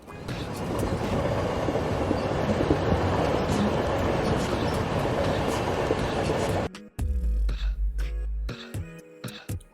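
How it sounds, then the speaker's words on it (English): A steady, dense rumble of a passing train fills most of the clip, loud and continuous, then cuts to quieter scattered clicks and thuds. "train"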